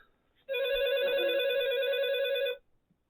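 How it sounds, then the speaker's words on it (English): A telephone rings once in a single sustained electronic bell tone of about two seconds, clear and moderately close, starting and stopping abruptly, with no voices. "I hear a phone ringing."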